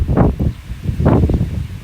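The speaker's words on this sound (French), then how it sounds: "Mais le vent, voilà, le vent laisse tomber, hein. Franchement là c'est... Oh, j'ai des rafales." Strong autumn wind gusts outdoors in Ille-et-Vilaine buffet the microphone in two loud rumbling bursts with a lull between, close and rough, with no talk over them.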